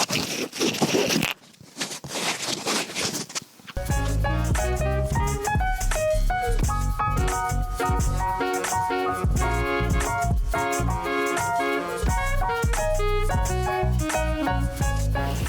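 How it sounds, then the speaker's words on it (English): Foam sponge squeezed and handled while fitting a fingerboard resi box, giving a close, crinkly scratching for about four seconds before music takes over. "Sponge ASMR."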